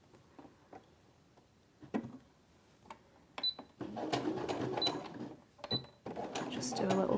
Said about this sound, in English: Just do a little back stitch at the top of the pocket there